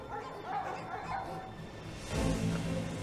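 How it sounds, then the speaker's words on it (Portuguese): A police dog, a military police drug-detection dog, barks in a few sharp yips amid background noise and faint talk, fairly quiet overall. "tem um cachorro da polícia dando bote forte, certeiro"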